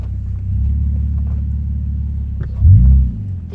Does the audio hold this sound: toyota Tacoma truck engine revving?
yes